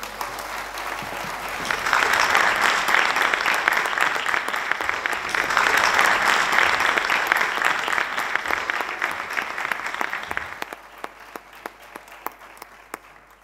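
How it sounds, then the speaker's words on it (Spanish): A crowd at a flamenco awards ceremony bursts into applause that swells, dips briefly, swells again, then thins out into a few scattered claps at the end. "Un aplauso."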